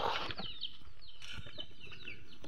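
Chickens cluck and chatter at close range with some wing flapping, a busy, continuous farmyard bustle throughout.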